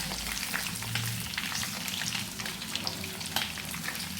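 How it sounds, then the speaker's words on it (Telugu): Fish pieces frying in hot oil give a steady, close sizzle with fine crackling pops throughout, unbroken and without talk. "చూసారు కదా ఎంత బాగా ఫ్రై అయినాయో."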